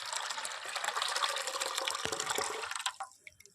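Water pours and splashes steadily for a few seconds while coconut milk is being made in a home kitchen, then trickles off and stops near the end.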